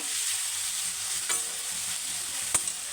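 Onions with curry leaves and salt sizzle steadily in a pan, frying without pause while a spoon stirs them now and then, giving two brief scraping clicks over the constant close hiss.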